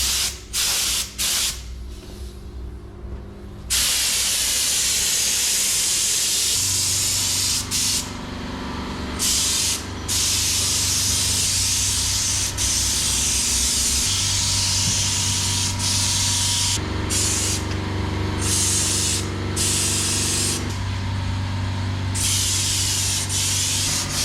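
Thinned paint sprayed from a spray gun onto a Volkswagen Beetle fender: a loud, steady airy hiss running in long passes, broken by several brief pauses.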